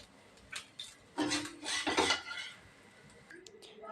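Hot semolina and carrot dough being scraped from a pan onto a plate, giving a few scraping and clattering utensil sounds, with a louder burst of scraping in the middle and quieter clinks at the end.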